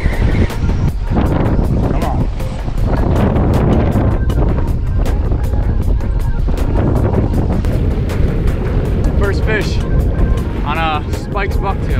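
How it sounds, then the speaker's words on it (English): Strong wind batters the microphone during surf fishing on Long Island, a loud continuous rumbling roar with gusty buffeting, and a voice calls out over it. "The wind is ripping, current is ripping."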